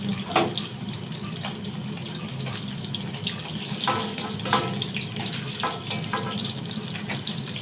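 Pieces of rohu fish frying in hot oil give a steady, close sizzle with scattered crackles and pops throughout. No one speaks.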